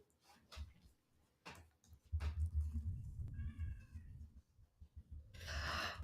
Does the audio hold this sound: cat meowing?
yes